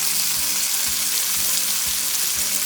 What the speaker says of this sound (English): Fry this until it is translucent